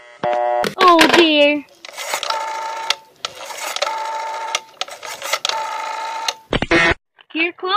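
An old-fashioned telephone being dialed and ringing in a vintage radio drama: clicking dial pulses and steady tonal ring or busy tones, interrupted by brief voices.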